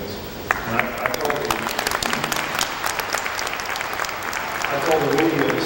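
A meeting audience applauds a speaker's stance on a piece of legislation, dense steady clapping that fills the room, with a voice speaking over it near the end.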